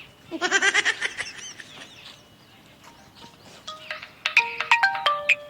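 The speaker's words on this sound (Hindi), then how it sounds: "फोनवा है भाई" A phone ringtone plays a bright chiming melody, a short burst of notes, a pause, then another run of tones, fairly close with no talking.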